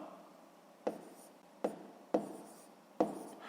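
Pen strokes writing numbers on paper during a sixth-grade math exercise, four short scratchy bursts at irregular intervals over a quiet background.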